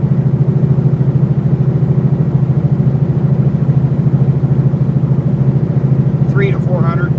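A semi truck's diesel engine pulls steadily in 17th gear on the highway, a loud, even low drone with a constant rhythmic throb heard from inside the cab, with a brief higher chirp near the end.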